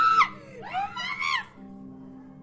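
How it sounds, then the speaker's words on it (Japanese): A man screams sharply in a short burst and then again in a longer, wavering cry, followed by a faint steady hum. "男の叫び声が聞こえてきたのだ"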